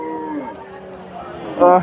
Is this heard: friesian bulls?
yes